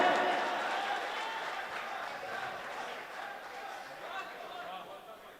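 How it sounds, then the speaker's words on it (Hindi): Broad crowd applause and cheering at an all-India mushaira welcoming a poet to the stage, a steady wash of clapping slowly tapering off, with voices mixed in. "ताली बजाकर इस्तेकबाल करें"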